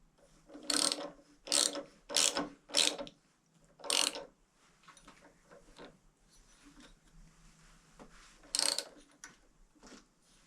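Ratchet tightening a nut on a 1928 Velocette motorcycle in a workshop: several quick, close clicking ratchet strokes in a burst, another stroke, quiet handling, then one final ratchet pass.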